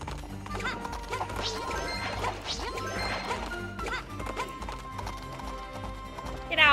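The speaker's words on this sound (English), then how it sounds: "can she ride a horse?" A horse gallops with steady clip-clop hoofbeats and gives a whinny in the video game Princess Peach Showtime, layered over game music with occasional crashes and a jingle near the end.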